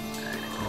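A frog croaks in the Sonic Heroes video game, one loud, sustained buzzing croak heard up close with no speech.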